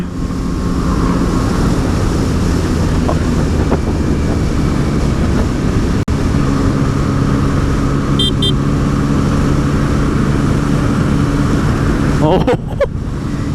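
A Yamaha MT-09 SP gen3 motorcycle engine drones steadily at cruising speed, loud and close under heavy wind rush, with a few faint clicks near the end.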